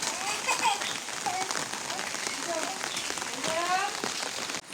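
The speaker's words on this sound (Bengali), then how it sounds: "বৃষ্টি বৃষ্টি পরে, এখন কোথাও যাওয়া যাবে না।" Rain falls steadily outdoors in a village, a dense even hiss of drops on surfaces running throughout, with children's voices and chatter heard over it.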